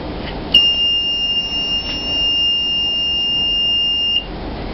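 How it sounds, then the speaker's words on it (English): An automated medicine dispensing system's alarm buzzer sounds one steady, high electronic tone for several seconds against a background hum, then cuts off. "there will be two alarms after 15 and 30 seconds respectively"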